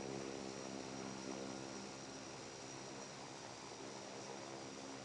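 A United Express Dash 8 turboprop lands at Palm Springs International Airport with a steady, distant propeller drone and a broad engine roar that stays even and faint.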